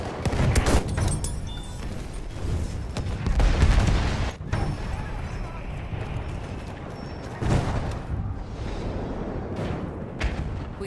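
Battlefield 1 conquest battle with heavy gunfire and booms, rapid bursts and distant explosions rolling continuously across the scene at close and mid range, loud throughout with brief lulls.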